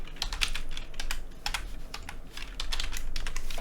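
Fingers type on a computer keyboard in quick, irregular bursts of clicky keystrokes, close and fairly soft, with brief pauses between runs and no talking.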